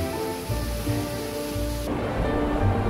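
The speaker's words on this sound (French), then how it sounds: "planté, sous l'immense cascade de Little Forsvatnet." The immense waterfall of Little Forsvatnet in Lofoten roars as a steady, broadband rush of falling water, close and continuous with no pauses or voices.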